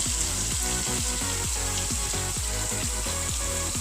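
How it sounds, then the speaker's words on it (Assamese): Cow ghee poured into a hot pan for veg pulao gives a steady close sizzle with rapid, regular bubbling pulses, continuous and even throughout without any voices. "এয়া গৰু ঘিউ ঢালি দিছোঁ মই"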